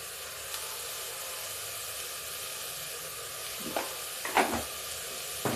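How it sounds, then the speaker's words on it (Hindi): Bottle gourd (lauki) roasts in a pan with very little oil, giving a quiet, steady sizzle with a few brief stirring scrapes toward the end. "अब लौकी भी थोड़ा सा भूनेंगे"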